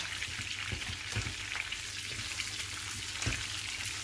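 Potatoes fry in hot oil while being stirred, giving a steady dense sizzle throughout with soft scraping and clinking of the spoon at intervals, close and fairly loud with no talking.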